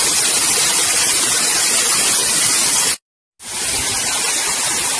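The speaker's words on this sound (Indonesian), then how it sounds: "Di sebelah timur atau sebelah kiri Gua Putri itu ada air terjun yang mengalir dari atas terus menuju ke bawah." Waterfall spilling from above near Gua Putri cave at Selarong, a loud, steady broadband rush of falling water heard close up, broken by a brief gap of silence before resuming.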